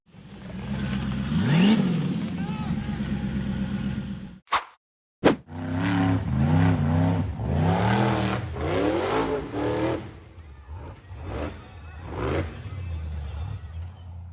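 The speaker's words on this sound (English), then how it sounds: "The buggy's engine roared as it powered hard up the steep, rocky dirt slope" A black and red off-road buggy's engine roars as it powers up a steep rocky dirt slope, loud revving that rises and falls in bursts, with a short abrupt gap midway.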